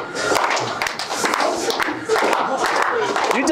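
An audience at a club speech event claps in a dense, continuous patter of many hands, fairly close and loud, with voices mixed in the background throughout.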